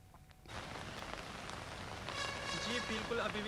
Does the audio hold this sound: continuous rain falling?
yes